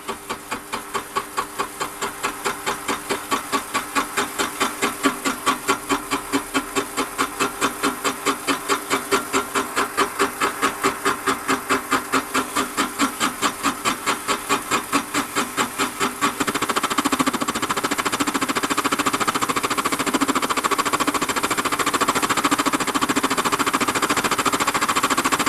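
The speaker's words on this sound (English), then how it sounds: "we want to get under the skin of the cast iron. We should start to cut in a moment." A Warco lathe turning cast iron at about 280 RPM: a steady mechanical hum with a fast regular clatter through the first part, giving way to a smoother continuous whir, close and unbroken.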